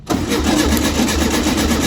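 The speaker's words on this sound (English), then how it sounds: "turn the engine over for me" A 1967 VW Beetle engine whose carburetor is clogged with varnish cranks over loudly and up close, with a steady rhythmic churn of the starter that continues without catching, and no talking.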